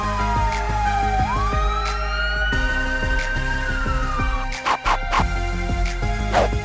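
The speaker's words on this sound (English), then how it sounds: "ambulance siren ringing" An ambulance siren wails steadily, a single tone gliding down then up and holding, loud and close over a rumbling vehicle engine, with a few sharp clicks near the end.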